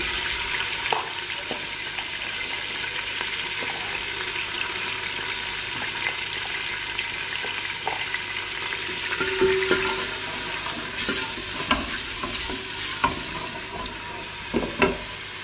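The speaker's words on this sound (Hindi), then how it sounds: "अभी मैं प्याज ब्राउन कर लेती हूँ" Onions brown in a pan with a continuous close hiss and crackle, with soft scraping and stirring clinks scattered through it.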